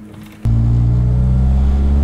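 Nissan 240SX S13 with a catback exhaust sets off: a quiet cabin jumps to a loud, steady, deep engine drone that holds through the rest of the clip, close and unbroken.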